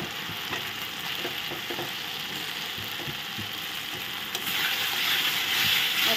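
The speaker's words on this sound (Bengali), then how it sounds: "মশলাটা ভাজা হচ্ছে আর আমি এখানে আলুগুলো দিয়ে দিলাম।" Spice paste and potatoes fry in a pan with a steady close sizzle and intermittent scraping, clicking stirs, and the sizzle swells louder toward the end.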